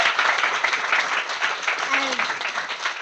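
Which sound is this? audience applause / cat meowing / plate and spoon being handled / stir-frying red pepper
audience applause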